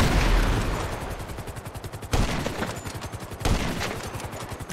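Rapid automatic gunfire in GTA V, loud repeated bursts of shots in quick rhythm with two heavier booms cutting in, all close and dense with no talk over it.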